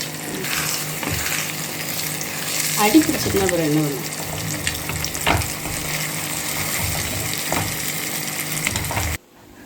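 Eggs frying and being stirred in a pan in a home kitchen, a continuous sizzle with occasional scraping strokes and clinks, plus a brief burst of voice or utensil noise in the middle before the sound cuts off.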